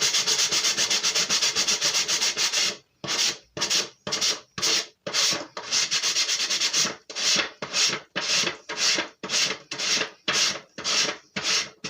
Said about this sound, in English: I'm going to sand this off.